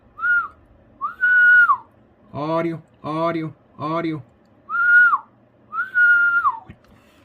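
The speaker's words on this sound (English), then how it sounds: "with me whistling, I'm not a great whistler." Someone whistles several short, wavering notes into a President Randy II radio during a test, broken up by a few brief spoken words, close and clear.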